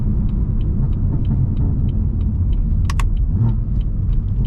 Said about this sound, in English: Listen to that downshift.